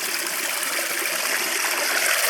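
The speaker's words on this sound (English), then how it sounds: "That sounds fast flowing." A fast-flowing mountain spring stream on a winter hike along the Herriot Way rushes and splashes as a steady, close, broadband wash of water with no talking.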